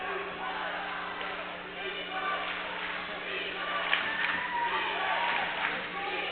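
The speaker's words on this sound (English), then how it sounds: "The crowd is getting into it now" Basketball crowd noise at a women's college game between Bryan College and Reinhardt University, a steady murmur of cheering fans in a gym under the sound of a commentator talking.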